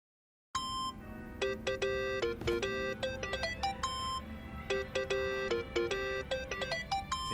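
A cell phone ringtone in the video game Yakuza: Like a Dragon plays a bright, repeating electronic melody of quick tonal beeps, starting after a brief silence and continuing steadily and clearly.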